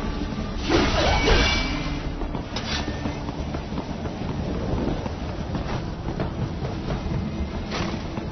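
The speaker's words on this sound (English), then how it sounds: "There is a freight railroad underground." An underground freight train in Metal Gear Rising rumbles past with a loud, rushing roar and rattling wheels, swelling early and then holding a steady clatter.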